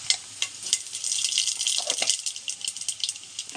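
Panch phoron whole spices spluttering in hot oil after dried red chilli, a crisp sizzle with small pops and crackles, close, rising and falling over a few seconds, no voices.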